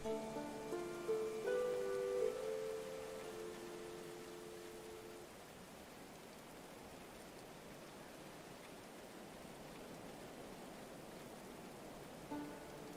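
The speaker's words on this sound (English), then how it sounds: "oh, another rain." Steady rain falls in the medieval colony-building game Going Medieval, a soft even hiss that fills the scene after a few brief tonal game chimes at the start, with no voices.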